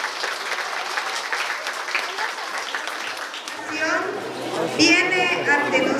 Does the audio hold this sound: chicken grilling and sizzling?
no